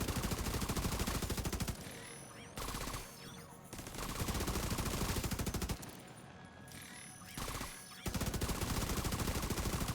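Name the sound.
gunfire in the video game The Division 2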